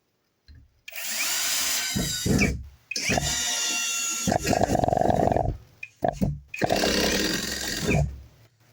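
Grosser GCD 16/42 cordless drill driving screws into wood, three long loud whirring runs with brief pauses between, close by and with no talk over it.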